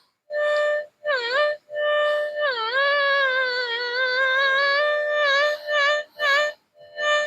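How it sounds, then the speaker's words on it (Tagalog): Adrenalin Visionary metal detector during a ground test, its steady threshold tone warbling and shifting in pitch as the coil sweeps over a buried target, a clear electronic whine in short bursts and longer sustained stretches without talk. "Pag dumaan siya sa target, medyo magagalit na konti yung tunog niya."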